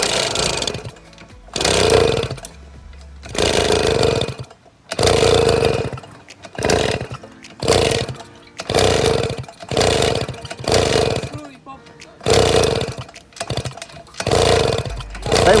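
A small two-stroke Romet moped engine revs repeatedly, loud bursts rising and falling in a steady on-off rhythm with short quiet gaps between.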